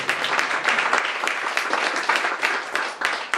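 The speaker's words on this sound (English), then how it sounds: "let's give all of them a round of applause" An audience at a Hindu temple in St. Louis claps warmly and continuously for a few seconds, a dense patter of many hands with no voices over it.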